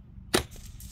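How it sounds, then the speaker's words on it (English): A single suppressed .22lr rifle shot firing subsonic ammunition gives one short, muffled crack with a quick fading tail, quiet and close against a hushed outdoor background. "now let's try the Agula subsonic."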